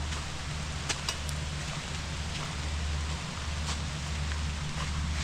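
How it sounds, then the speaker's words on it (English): Rain falls steadily outdoors in the Hartland, Maine countryside, a dense even patter with a few brief louder drops and a low rumbling undertone. "some rain's coming down good now"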